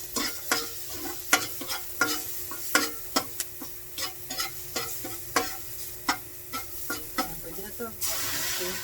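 Odong noodles with vegetables being stirred in a frying pan, a spatula scraping in steady rhythmic strokes about twice a second over a continuous close sizzle, with a louder burst of hiss at the end.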